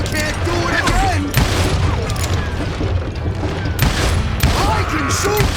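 Gunshots in Call of Juarez: Gunslinger, a loud, continuous clatter of firing and booms under voices shouting in-game, with no gap throughout.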